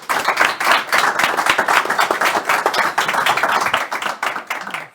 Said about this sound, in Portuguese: Uma salva de palmas para os nossos convidados.